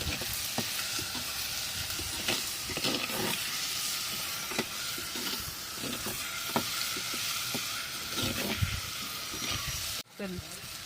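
Sliced onions with a little salt fry in a hot pan for a home-style fish curry, giving a steady close sizzle punctuated by spatula scrapes. A voice talks over the cooking before a brief cut near the end.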